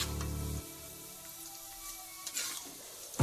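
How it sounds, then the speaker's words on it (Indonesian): Potatoes and liver frying in oil, a steady crackling sizzle with a low rumble in the first half-second, then lighter spitting and popping, close and moderately loud. "Dan kita goreng kentang dan atinya."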